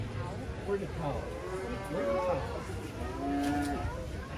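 A calf lowing at a 4-H county fair calf show, drawn-out moos rising over steady crowd chatter and background voices in an indoor show arena.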